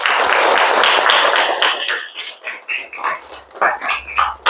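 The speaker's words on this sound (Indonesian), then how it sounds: "Oke, tepuk tangan." Schoolchildren in a classroom clap their hands, first a dense loud burst of applause that then breaks into irregular, thinning claps with a few stray slaps near the end.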